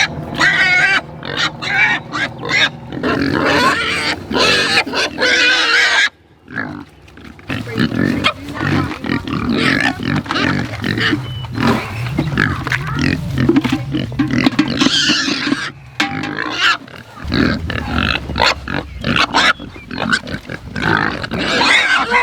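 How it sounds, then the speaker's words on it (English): Pigs grunting and squealing close by on a homestead, a dense, continuous chorus of snorts and oinks with a brief lull partway through. "Pigs."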